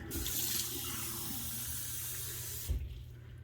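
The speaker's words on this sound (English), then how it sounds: "And then I just go back into the water, refill it as necessary." Tap water runs steadily while a boar-bristle shaving brush is rinsed and refilled at a sink, a close, continuous rush of splashing that breaks off near the end with a brief knock.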